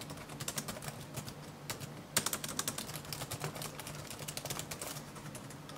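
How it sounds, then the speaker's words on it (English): Fingers type on the noisy, plasticky keyboard of an Asus X550 15.6-inch laptop, a fast, uneven run of close, clicky keystrokes with a brief pause and one louder tap, quiet overall and without talking. "the keys are plasticky and way noisier than I'm used to"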